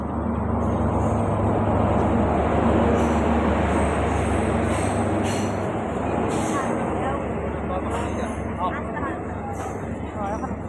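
Passenger train on a rural line in Assam pulling in and running, a broad steady rumble of wheels on rail with occasional high squeals, loud and close throughout, with people talking over it.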